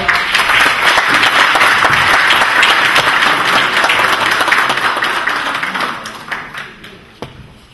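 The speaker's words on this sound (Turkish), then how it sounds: "Kuvvetli alkışlarımızla" A lecture hall audience claps loudly in a dense, sustained burst that gradually fades into scattered final claps.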